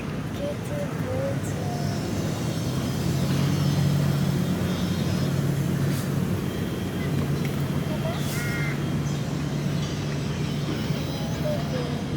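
A few distant crow caws rise over a constant rumble of engine or traffic noise in Thailand, with some faint talking in the background.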